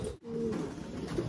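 Pigeons for sale at a home loft coo softly nearby in a low, rolling murmur, with a brief break near the start and a faint chirp toward the end, alone with no talking.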